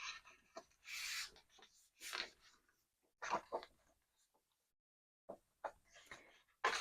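A paper cover for a junk journal made from a popcorn bag is scored with a tool, giving faint, brief scraping and rubbing strokes in short bursts separated by quiet gaps, close by with no talk.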